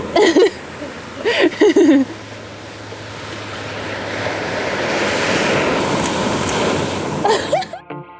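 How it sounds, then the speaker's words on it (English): Steady surf and splashing water wash along a beach in the background, with brief bursts of talk at the start and end. "Water's like splashing in the background."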